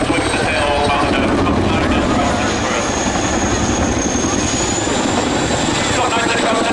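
Chinook twin-rotor helicopter swinging its tail around the nose in a power display at an air show, a loud continuous rotor roar and turbine whine, with someone speaking over it.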